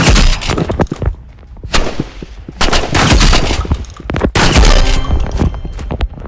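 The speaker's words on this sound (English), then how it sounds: "since he's using shotgun, we'll use shotgun" Loud, booming shotgun blasts in a video game, several heavy shots fired at irregular intervals, each with a sharp crack and rumbling tail, close up and with no talking.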